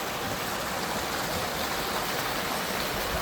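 Water rushes continuously at a waterfall, a dense, steady roar that stays even and unbroken with no voices over it.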